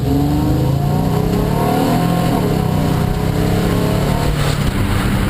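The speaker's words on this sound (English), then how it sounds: "No exhaust noise at all. It's all engine." A car with a Varex valved muffler driven downhill with the valves closed in stealth mode, a steady loud engine drone with harmonic hum and no exhaust rasp, continuous throughout.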